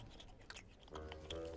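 A cartoon character chews garlic with a few close, crunchy bites and mouth noises, faint and brief, alone without talking.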